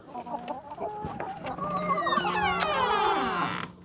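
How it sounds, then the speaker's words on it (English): Several farm chickens cluck and squawk close by, with rising, drawn-out calls overlapping near the end; no one speaks. "All the chickens are following me like."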